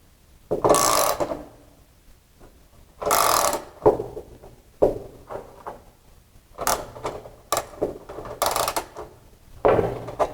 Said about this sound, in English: let's crank this one down